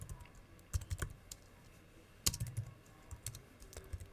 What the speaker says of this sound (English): I'll just use the arrow down key on the keyboard.